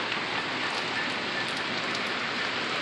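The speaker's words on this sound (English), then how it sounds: "We're getting a lot of great rain." Steady rain pours down, a dense, even hiss of drops hitting surfaces, continuous and fairly loud, with no voices.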